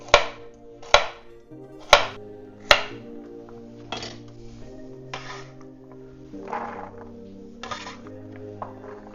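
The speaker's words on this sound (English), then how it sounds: "So carrots take a little bit longer to cook, so I'm going to do smaller pieces for the carrots." A knife chops carrots into small pieces on a cutting board for a watercress soup: four sharp, evenly spaced chops up close, then softer, quieter cuts.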